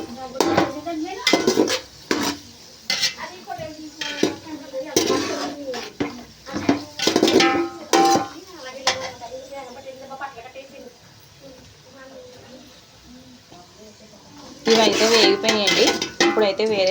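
Fried vermicelli being mixed in a metal pan for semiya kesari, with repeated clattering scrapes and knocks of a utensil against the pan, a quieter stretch midway and then a busy burst of stirring near the end.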